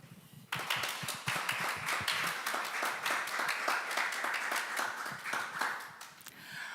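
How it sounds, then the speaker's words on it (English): A small group clapping after a keynote speech at an opening ceremony, starting abruptly and continuing as distinct, uneven hand claps at a moderate level until it thins out near the end. "Let's give him a big round of applause."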